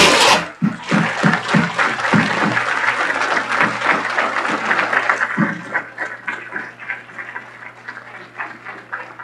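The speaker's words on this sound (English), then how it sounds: "I would ask for a final round of applause" Audience at a 2013 county sports hall of fame banquet gives a final round of applause, a loud wave of clapping with a few sharp nearby claps, gradually thinning and fading with scattered murmurs.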